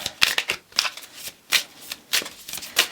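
Card shuffling, several quick riffling bursts spaced through the clip, close and crisp with no voices.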